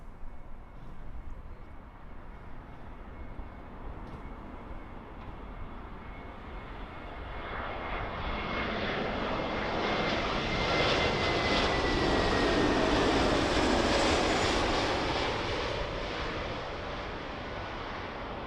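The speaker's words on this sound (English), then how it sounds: "the Aegean Airlines A321neo arriving in from Athens" A two-year-old Aegean Airlines Airbus A321neo arrives from Athens onto runway 27L at Heathrow. Its engine roar grows from a distant hush to a loud, broad peak as it passes close, then begins fading.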